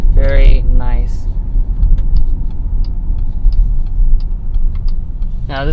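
Steady road and engine noise from a 2021 Jeep Grand Cherokee L three-row SUV cruising on the road, a constant low rumble from the cabin with a voice speaking briefly at the start and end.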